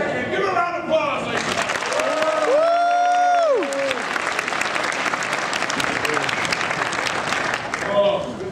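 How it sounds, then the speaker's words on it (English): Audience applause fills a comedy improv show at a convention, steady and sustained throughout, with a voice speaking briefly over the clapping midway. "All right, give a round of applause,"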